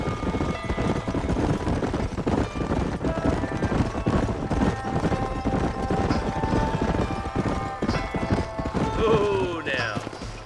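A group of riders on horseback in the Red Dead Redemption game, with many hooves clip-clopping together in a dense, continuous trot, near and loud, and a horse whinnying briefly near the end.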